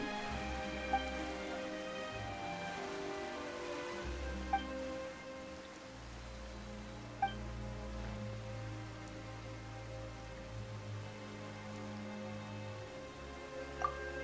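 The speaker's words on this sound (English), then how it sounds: "Why is it raining all of a sudden?" Sudden rain falls in the game Genshin Impact, a soft, steady patter on surfaces with a faint low rumble beneath and a few isolated droplet taps standing out; no voices.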